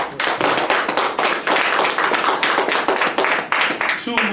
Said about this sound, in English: Give our brother a round of applause.